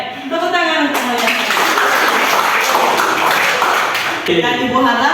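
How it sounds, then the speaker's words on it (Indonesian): A classroom of students bursts into dense, lively hand clapping lasting a few seconds, fairly loud and close, with a teacher's voice speaking just before and after. "tepuk tangan untuk kalian."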